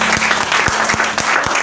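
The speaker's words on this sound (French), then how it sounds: "Il mérite l'acclamation." Applause from a church congregation during a sermon, steady dense clapping filling the short moment with a few sharper claps standing out, fairly loud and close, with no voices over it.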